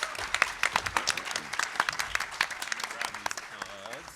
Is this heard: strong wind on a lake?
no